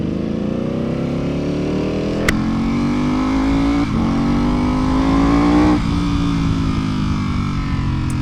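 A Ducati V4 Superleggera motorcycle cruising on a long ride, its engine loud and close with a steady drone that climbs in pitch through gear changes, plus wind rush.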